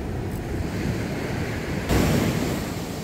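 Sea waves wash onto the shore during cast-net fishing for halfbeak, a steady loud roar of surf with wind buffeting the microphone and a surge that swells louder near the end, with no voices.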